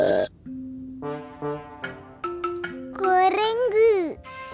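A cartoon burp rings out among bright, playful sounds and childlike chatter, ending in a drawn-out, wavering belch near the close.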